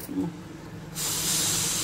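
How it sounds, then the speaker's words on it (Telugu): Steam hisses out of a pressure cooker after cooking an amaranth-greens and tomato curry; after about a second of near quiet, a loud, steady, close hiss rushes out and holds to the end. "ఆవిరి అయితే వెళ్ళిపోతుంది."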